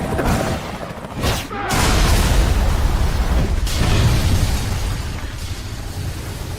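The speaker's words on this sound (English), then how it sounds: "blasts open an escape route with an RPG" RPG blast in the video game Resident Evil 5: a sharp crack followed by a heavy, rumbling explosion with crackling debris, loud and close, then a lingering roar.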